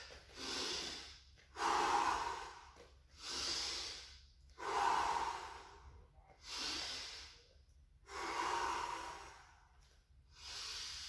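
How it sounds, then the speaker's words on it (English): Heavy, rhythmic breathing in a Muay Thai starter session after jogging and strides, with about six slow, deep inhale-exhale cycles, each long and breathy, close and fairly quiet with no talk. "Learn to control your breathing."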